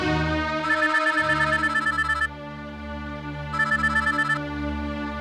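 A phone rings as a call is placed from a film scene, with a steady electronic ringtone melody in two bursts and a continuous tone between them, loud and clear with no talk.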